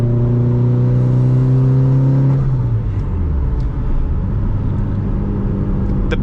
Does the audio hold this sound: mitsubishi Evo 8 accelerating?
yes